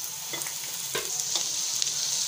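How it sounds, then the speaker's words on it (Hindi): Finely chopped green chillies frying with ginger garlic paste in a pan for a commercial samosa recipe, giving a steady close sizzle with a few soft stirring scrapes and no talk. "2 मिनट भूनने के बाद इसमें जाएगी हरी मिर्च बारीक कटी हुई"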